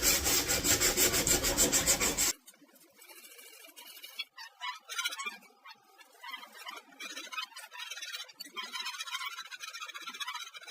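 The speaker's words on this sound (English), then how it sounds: "the noise level that sandpaper is making" Sandpaper scrubs pallet wood for a baritone guitar build, a loud dense rasp at first, then softer intermittent rubbing strokes in irregular bursts.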